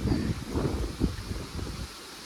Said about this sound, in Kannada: ಅಯ್ಯೋ ಗಾಳಿ.